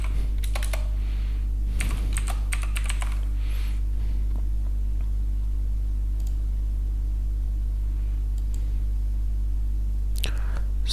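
Typing a database name on a computer keyboard, close clacking keystrokes in short bursts separated by pauses, over a steady low electrical hum.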